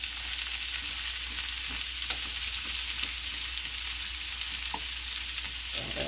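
A one-pot meal seasoned with Italian seasoning simmers and sizzles in a pot, a steady close crackling fry with small pops and a low hum beneath.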